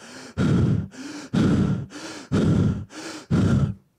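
A voice imitates the heavy, tired breathing of an old warrior leaning on his sword after battle: four loud, rhythmic pairs of rasping exhales and gasping inhales, close and alone with no speech.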